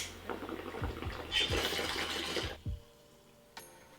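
Tap water pouring into a cooking pot in a home kitchen, a rushing stream that rises and swells for a couple of seconds, then cuts off, leaving a quiet tail with a light clink.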